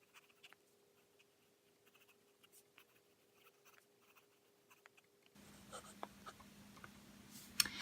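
A Platinum Balance fountain pen with a fine nib scratches lightly across paper in short, faint strokes with quiet pauses, the room noise shifting partway through.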